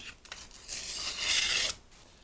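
Freshly sharpened knife blade slicing through test material, a brief rasping cut swelling over about a second and stopping abruptly, close and moderately quiet.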